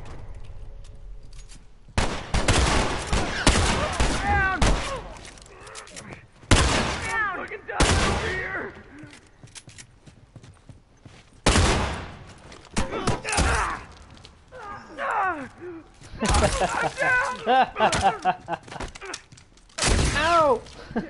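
Shotgun blasts in a The Last of Us firefight, a series of loud booming bursts with ringing decay spaced several seconds apart, with a voice groaning and speaking between and over the shots.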